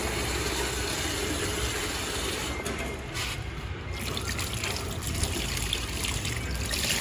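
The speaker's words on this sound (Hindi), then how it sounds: "अच्छा सा पानी हमने डाल दिया" Water poured into cocopeat in a seed-starting setup for Adenium, a soft continuous trickle and splash that runs steadily over several seconds, fairly quiet against a low background hum.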